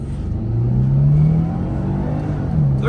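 An all-wheel drive car accelerates from a standstill, its engine drone climbing steadily in pitch with a brief dip as it shifts. The sound is moderately loud, even and continuous, and no one speaks.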